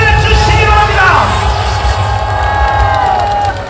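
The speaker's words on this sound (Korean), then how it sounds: "멋진 연설을 보여주신 우리 정강 목사님께 감사의 박수 보내주시기 바랍니다" A crowd at an outdoor Korean Liberation Day rally cheers and claps after a pastor's speech, a loud sustained roar with whoops and voices mixed in, fading slightly toward the end.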